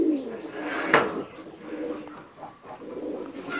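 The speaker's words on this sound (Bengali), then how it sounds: "এটা মাশাল্লাহ খুবই ভালো ব্লাড লাইনের কবুতর" Teddy high-flyer pigeons coo in a loft, soft low throaty calls repeating close by, with a brief sharp rustle and faint background noise.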